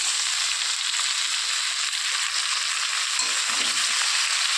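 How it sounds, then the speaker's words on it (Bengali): Taro stolons frying with salt and turmeric in an uncovered pan, a loud, steady, hissing sizzle with no break, close up and alone. "আমি ঢাকনা ছাড়া এইভাবে এখন আস্তে আস্তে করে লবণ হলুদ দিয়ে এইভাবে ভেজে নেব"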